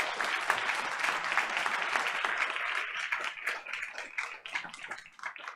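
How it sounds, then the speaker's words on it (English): Audience applause at a school board meeting honoring teachers, a steady roomful of clapping hands at moderate volume, gradually thinning into scattered individual claps near the end. "let's give them a big round of applause"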